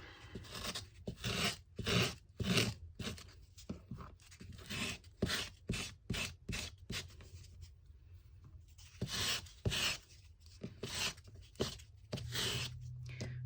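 Paper page-tab edges rubbed with sandpaper give quick rasping strokes in uneven bursts with brief pauses, close and fairly quiet.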